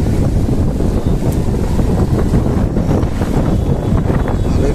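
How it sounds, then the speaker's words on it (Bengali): Wind buffets the microphone outside Agartala railway station, a loud, steady roar that fills the whole stretch with no break and no voices. "বাতাস চলতেছে, কিন্তু লগে রইদও আছে।"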